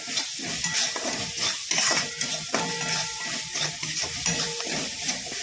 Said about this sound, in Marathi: आता हे नीट परतून घेऊया